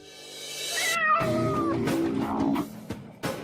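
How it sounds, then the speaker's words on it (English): A household cat meows loudly and close up in a drawn-out, wavering cry, followed by several shorter moaning meows, with no talk over it. "the household cat"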